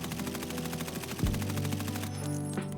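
Full-auto rifle fire in Escape from Tarkov, a rapid, steady stream of shots lasting about two seconds over a low rumble, with a heavier report partway through and the burst cutting off near the end.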